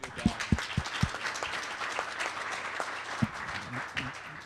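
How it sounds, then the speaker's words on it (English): Scattered audience applause at a Connecticut outlook forum, honoring the previous panel. Sparse, uneven claps, a few sharp ones standing out early, thin and moderately distant in a conference room, with no talking. "I just want to give a round of applause for the last panel"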